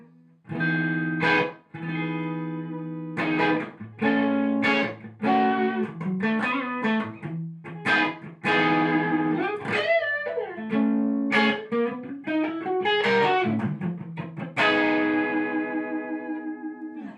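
Electric guitar through the amber overdrive stage of a Marshall JVM 410 tube amp's clean channel plays chords and single-note riffs with crunchy tone, loud and sustained, with echo and chorus-like shimmer.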